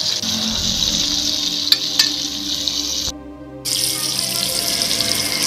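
Sardines fry in oil on a very small dosa pan, producing a loud, steady, close sizzle that breaks off for a moment before resuming.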